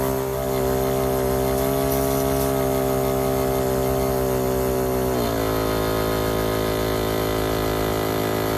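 An Etenwolf Vortex S6 single-pump air compressor runs loud and continuous, with a steady droning motor and pump hum that drops slightly in pitch partway through as the load changes.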